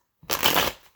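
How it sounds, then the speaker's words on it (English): A Witch's Tarot card deck being shuffled, a single brisk riffle of flapping, fluttering cards lasting about half a second, close and clear against silence. "now just to shuffle the Witch's Tarot"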